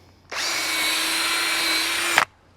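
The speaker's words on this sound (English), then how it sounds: "We'll drill some holes for our U-bolts." A power drill fitted with a 3/8 bit bores a hole through a steel fence post for 5/16 U-bolts, one loud steady whine of about two seconds that stops abruptly, close up and with no voices.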